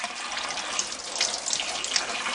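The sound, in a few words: tap water running over tomatoes to peel skins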